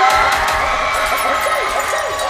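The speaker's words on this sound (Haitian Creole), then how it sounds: "Applaudissez s'il vous plaît" An audience at a Christmas-season performance show cheers, whoops and shouts continuously, loud and dense, with children's voices and scattered clapping in a packed, lively crowd.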